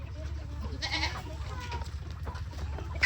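A goat bleats a few times outdoors at feeding time over a low steady rumble, with other livestock sounds, including chickens, faintly in the background.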